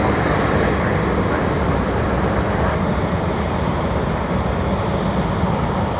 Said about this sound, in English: Vietnam Airlines has just touched down